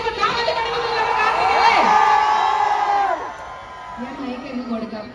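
A crowd at a shop inauguration in Mannarkkad cheers and whoops loudly, voices rising together into a sustained roar that fades after a few seconds while scattered shouts continue.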